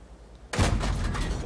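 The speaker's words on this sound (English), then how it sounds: "Take some shots into the JP2." A tank gun firing at a JP2 tank destroyer in a tank video game, one heavy close boom bursting in after a quiet moment and rumbling on as it fades.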